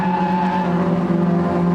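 A Holden Commodore super saloon race car screams past under hard acceleration out of Club Corner at Silverstone, a loud, strained engine note with a sustained tonal whine and a hint of tyre squeal.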